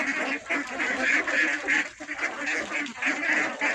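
A new batch of ducks kept for sale quacks loudly and close by in a dense, continuous chorus of overlapping calls.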